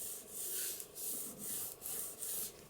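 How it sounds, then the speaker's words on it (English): Folded paper journal pages are burnished down with repeated rhythmic rubbing strokes, about six close, soft scrapes in steady succession with no talking. "Burnish those down."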